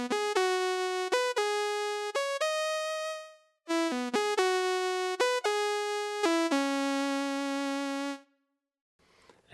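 A bright, buzzy sawtooth-wave synthesizer tone at 50% plays a stepped melody of held notes, rich in harsh overtones, with a brief pause midway and silence at the end.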